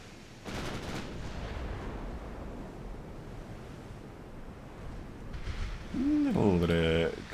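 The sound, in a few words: naval gunfire in a warship video game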